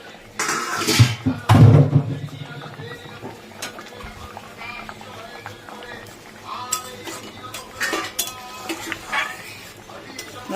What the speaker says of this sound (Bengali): দেখো ভালো করে নেড়ে দিলাম